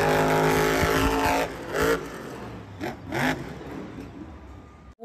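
A yellow toy monster truck, a big mud-conquering model, buzzes with a loud motor whine that revs up and down in several bursts, close by, before cutting off abruptly near the end.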